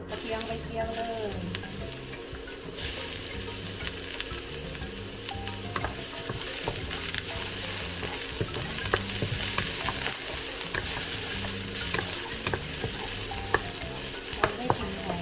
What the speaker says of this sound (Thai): หอมกับกระเทียมไปเจียวเลย